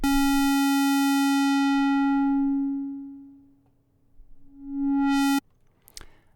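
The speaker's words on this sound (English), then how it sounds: "and I'll be filtering it with a low-pass filter." A sustained synthesizer square wave passes through a low-pass filter that sweeps shut, dulling the buzzy tone to a muffled hum. The filter then opens again to full brightness and the note cuts off abruptly, followed by a brief click.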